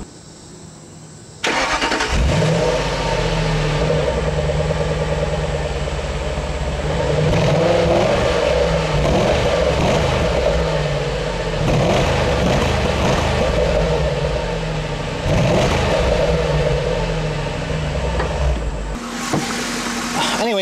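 The Jaguar-derived 3.9-liter V8 of a 2002 Ford Thunderbird cranks to life and idles with a deep burble, blipped through several throaty revs, close and loud.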